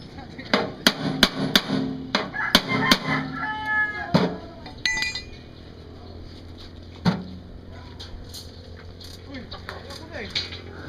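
A hammer pounds a part into place with a run of sharp close blows early on, followed by a few scattered knocks and quieter handling sounds, and a voice is heard faintly in between.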